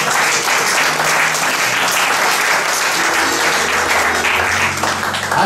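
A church congregation applauds with loud, sustained, dense clapping that fills the whole moment without pause, steady from start to finish with no voices rising above it.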